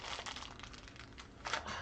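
Close, continuous crinkling and rustling of paper as a wrapped box from a Wizarding World advent calendar is unwrapped, with a brighter burst of crackle near the end.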